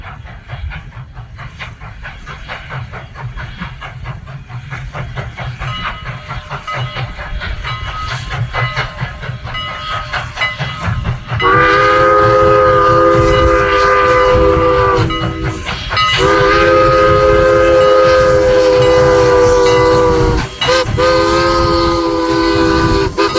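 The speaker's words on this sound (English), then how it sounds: "the 6 o'clock train left Strasburg" The Strasburg Railroad 6 o'clock train rolls past with rumbling wheels and hissing, growing louder. Then its horn blasts in long, loud sustained chords with short breaks between them.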